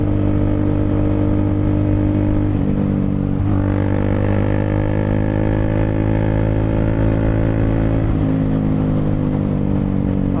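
Triumph Speed 400 motorcycle engine revving loudly and close, a steady idle-like drone that climbs in pitch with throttle blips around a few seconds in and settles back, with no talk over it.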